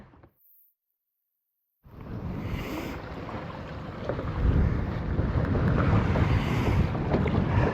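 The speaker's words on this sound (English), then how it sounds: "Battling this wind, if you can hear it" After a brief silence, heavy wind buffets the microphone on a boat trolling for walleye at night on Green Bay, a loud, rumbling roar that grows stronger, with faint water sounds beneath.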